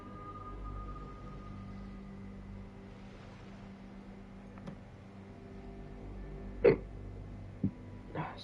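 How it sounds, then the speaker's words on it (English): A person hiccups, giving a short sharp catch that turns into a burp, followed by two smaller hiccup-like pops. These sit over a low, steady engine-like hum from the game's background. "I hiccuped into a burp."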